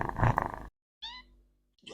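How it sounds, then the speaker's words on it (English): A cat purrs close to the microphone, a short rumbling burst that stops abruptly, followed by brief high tonal chirp-like sounds after a gap of silence. "This is Sunday, and this is Sunday purring."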